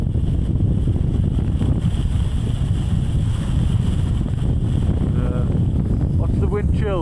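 Strong wind batters a hilltop campsite on Hedgehope Hill in the Cheviots, roaring and buffeting the microphone in loud, continuous gusts, with a voice briefly rising over it near the end.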